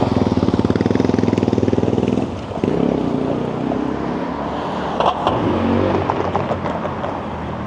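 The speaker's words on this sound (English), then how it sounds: "Dirt bike in the heart of the financial district." A dirt bike's engine rattles loud and close in a busy financial district, a rapid pulsing idle that breaks into revving, with city traffic noise around it.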